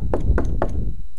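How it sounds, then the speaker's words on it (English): Three firm knocks on a door, evenly spaced and close, each a sharp dull thud, followed by a brief quiet tail with no voices. "Here's a knocking indeed."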